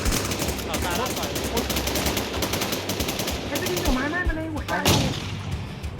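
Steady, loud gunfire in the online shooter Infestation SEA, including an SVD rifle, with rapid repeated shots running the whole time and a sharp burst near the end, over voices talking excitedly.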